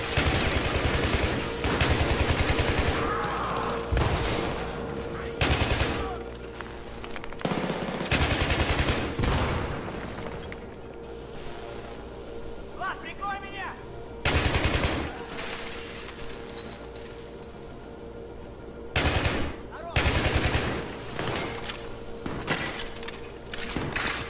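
Light machine gun fire in Battlefield 3 co-op, long sustained bursts of rapid shots separated by short pauses, loud and close with game ambience between bursts.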